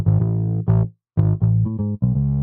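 Heavily distorted synth or vocal tones pass through an effects chain in a pop dance production in the style of 'Rain On Me', with loud choppy phrases broken by short gaps of silence and no talking.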